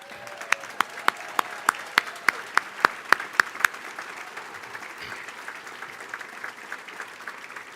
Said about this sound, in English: please stand and receive a round of applause